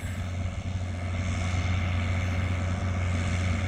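A tractor engine with a CVT gearbox drones steadily at close range, a constant loud hum with a whirring, helicopter-like tone and no pauses.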